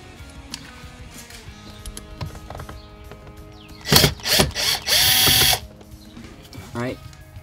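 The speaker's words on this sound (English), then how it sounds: "we can grab our power drill" Power drill backing a screw out during a Cosmic Optix install, a few short whirring bursts close by followed by a longer steady run, with speech around it.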